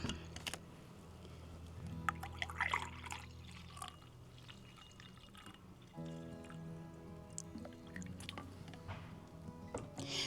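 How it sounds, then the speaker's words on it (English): Regular tap water is poured into a flower vase already holding a squirt of flower food, a soft close trickle and splash that swells in two bursts, quiet overall. "then I will just add some regular tap water."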